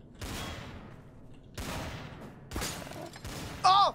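Gunshots in the multiplayer shooter game Trouble in Terrorist Town: four separate loud cracks spaced about a second apart, each trailing off, with a short whistling tone at the end.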